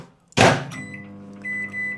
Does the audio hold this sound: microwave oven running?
yes